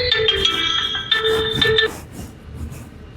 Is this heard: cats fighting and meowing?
no